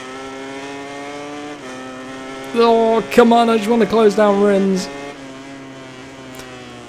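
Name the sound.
motorcycle engine racing in video game MotoGP 19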